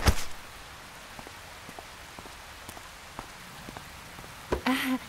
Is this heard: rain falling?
yes